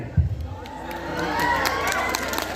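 A college audience at a folk festival inauguration in Bangarapet cheers and shouts, a steady crowd roar with youthful voices rising through it, a close burst near the start, and clapping barely distinct within the din.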